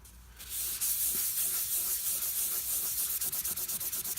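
A rag rubbing purple crayon off a painted wall: steady, close scrubbing hiss with rhythmic strokes that become quicker and more pulsed toward the end, with no talking.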